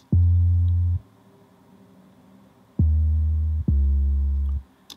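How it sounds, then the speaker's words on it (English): A deep, smooth sine-wave bass plays three sustained notes, each starting and stopping abruptly with silence between, clean and alone. "This right here is the old bass line."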